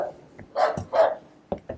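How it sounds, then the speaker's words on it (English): A dog barking at a home with a pool, a few sharp barks in quick succession with short gaps between them, moderately close. "this home does come with a barking dog"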